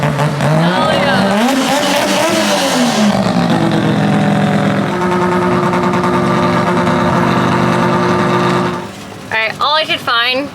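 A three-rotor Mazda RX7 engine revs hard on a dyno indoors, a loud sustained rotary wail climbing and holding pitch, then cutting off into sharp pops and crackles at the end.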